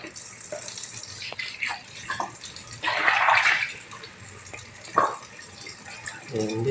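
Water gushes from a tap for a few seconds amid clattering and splashing while cooking, with intermittent talk nearby.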